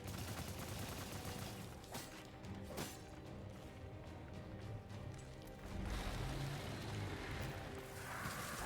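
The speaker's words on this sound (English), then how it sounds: "Good thing we got our flame rifle." A flame rifle fires in the action game Immortal: Unchained, a dense, continuous roaring blast mixed with bursts of impact and battle noise. Loud and steady, with a surge near the end.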